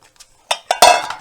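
A metal baking pan knocked and clattering on a surface while bread dough for Paska Easter bread is placed in it, with a few quiet taps followed by louder metallic clanks ringing close by.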